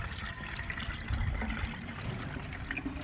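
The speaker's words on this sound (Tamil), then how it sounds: "பாருங்கள், தண்ணி சேர்த்துட்டோம்." Water pours into a leaf liquid fertilizer solution to dilute it, a continuous trickling and splashing that stays steady and close for a few seconds with no talking.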